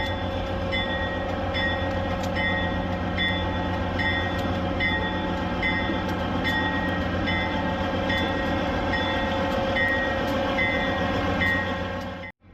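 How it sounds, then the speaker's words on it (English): A modern White Pass diesel locomotive hauling old historic carriages slowly into Carcross station, a steady close rumble with engine drone and repeated high squeal tones over about twelve seconds, no talking. "We saw the white rail train pull in to Carcross."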